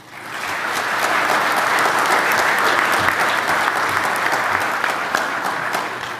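Sustained applause from a conference audience welcoming Dr. Virginia Weaver to the stage, a dense, even wash of clapping that swells quickly and holds steady throughout.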